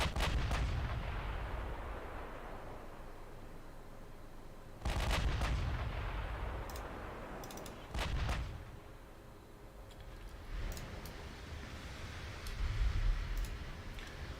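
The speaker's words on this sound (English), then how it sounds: "Firing at 40 kilometers out." Warship guns in the naval video game Ultimate Admiral Dreadnoughts firing at long range, several heavy booming salvos spaced a few seconds apart, each followed by a rolling rumble, with no voices.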